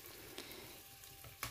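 Oil sizzles steadily in a pan as spices are stir-fried, with a couple of sharp scraping stirs breaking through the constant frying hiss.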